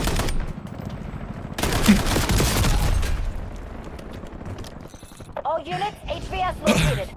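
Gunfire in the Call of Duty video game, dense rapid bursts and booming shots that roll on continuously, loud and close, with a voice briefly speaking over the noise near the end.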